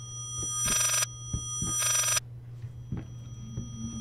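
Two long electronic telephone rings sound in the horror video game Layers of Fear, each burst about half a second, with thumping footsteps and a low steady hum beneath and afterward.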